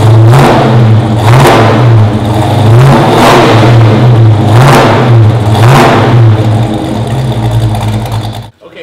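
A 1970 Chevrolet Chevelle SS 396 V8 convertible idles loudly, then revs several times in a steady rhythm of rising and falling roars, close up.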